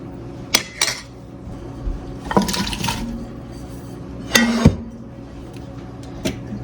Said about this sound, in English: Basically, I'm just deglazing the pan